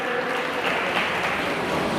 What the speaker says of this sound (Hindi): थोड़ा तालियों से इस हॉल को गुंजायमान करें